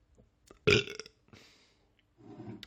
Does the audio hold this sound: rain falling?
no